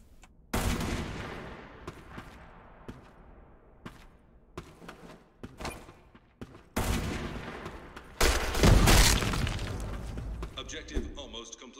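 Bursts of gunfire in the video game Black Squad during a night-town competitive match: scattered single shots, then loud sustained volleys and rapid fire, with player voices talking over the action.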